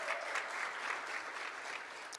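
An audience applauds in Anderson Turner Auditorium at the VSU Spring 2022 opening conference, a steady wash of clapping that holds even and unbroken throughout.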